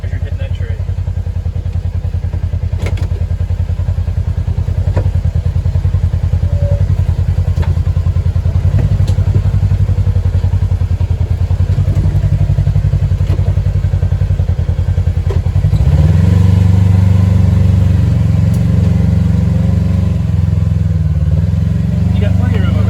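A Kawasaki KRX off-road side-by-side grinds through reversing and repositioning beside a tree on rough trail ground, its engine droning loudly and close before revving harder near the end, with occasional thumps and rattles under people talking.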